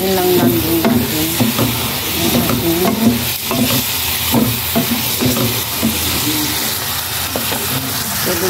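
Chicken neck adobo with light, sweet and thick soy sauce being stirred in a hot pan, with steady loud sizzling and frying hiss and repeated scraping strokes of a utensil throughout, no talking.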